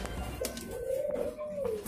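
Caged pigeons or doves give a soft, rolling coo lasting about a second, close and clear over faint background noise, with no talking.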